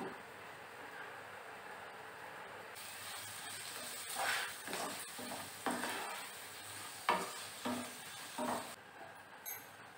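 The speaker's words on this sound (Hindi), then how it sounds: "अभी इसको मीडियम फ्लेम पे लगभग 10 से 15 मिनट तक फ्राई कर लेना है।" Cluster beans fry over a medium flame, a faint low sizzle that brightens partway through, broken by a series of spatula scrapes and stirs against the pan, quiet and close.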